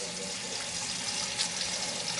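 Tap water runs into a kitchen sink during dishwashing, a soft, continuous hiss and splash at low volume with no speech.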